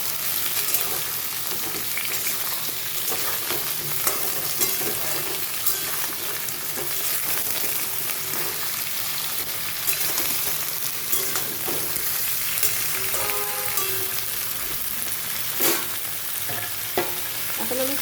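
Bottle gourd sizzles steadily in a hot pan as a Bengali shukto is cooked, with stirring scrapes and clinks breaking through the constant frying hiss, close and alone.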